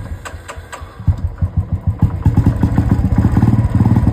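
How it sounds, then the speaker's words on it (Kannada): A cold Royal Enfield motorcycle coughs and cranks several times, then catches and settles into its loud, close thumping idle, with no voices. "ರಾಯಲ್ ಎನ್ಫೀಲ್ಡ್ ಗಾಡಿ"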